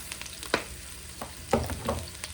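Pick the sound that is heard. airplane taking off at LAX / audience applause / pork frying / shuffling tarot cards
pork frying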